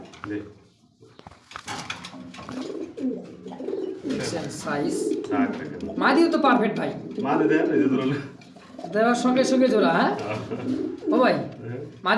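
Soft pigeon cooing at a pigeon and poultry sale blends into steady conversation, with voices dominating throughout and the coos low and rounded beneath them.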